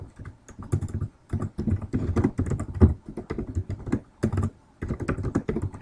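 Fingers clatter on a computer keyboard in quick, irregular bursts of close, crisp key presses with short pauses between runs, and no talking over them.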